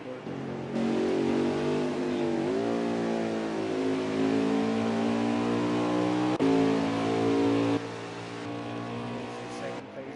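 Race truck engines in the NASCAR Heat 5 video game drone and rev steadily with rising and falling harmonic pitch, loud and continuous, under a commentator's talk.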